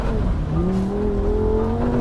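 Lamborghini Huracan Sterrato driven hard off-road, its engine note rising and sliding in pitch as it revs through a corner, loud and close, with no talk.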